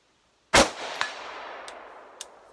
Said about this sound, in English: And then 1 shot on steel.